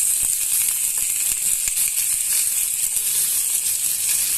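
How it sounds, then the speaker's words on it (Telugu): Garlic pieces, tamarind and cumin sizzle in a pan on a low flame: a steady, close, even hiss with a few faint clicks and no voices. "వెల్లుల్లిపాయ రవ్వలు కొంచెం చింతపండు కొంచెం జీలకర్ర అన్నీ వేసి బాగుగా దూరగా వేయించుకోవాలండి"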